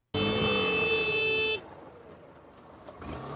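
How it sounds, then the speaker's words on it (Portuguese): A car horn blares in one loud, steady blast lasting well over a second, then cuts off and leaves quieter street background noise. "Chega buzinando e não sei o que"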